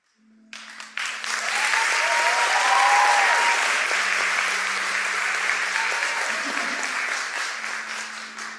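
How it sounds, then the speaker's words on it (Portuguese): A church audience breaks into sustained applause after a healing testimony, a full roomful of hands clapping loudly and evenly for several seconds, with a faint voice underneath. "Você está aplaudindo o testemunho, né?"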